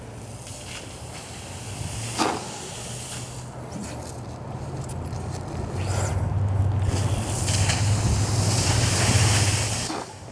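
Water rushes steadily from an opened fire hose nozzle during a firefighter hose-line drill outdoors, a broad hissing roar that swells louder in the second half, with wind buffeting the microphone.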